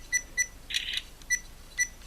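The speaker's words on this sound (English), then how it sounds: "it will take a series of photographs" A Campark 4K action camera in time-lapse mode gives a run of short electronic shutter beeps at a regular pace, with one longer tone in the middle, faint and close in a quiet room.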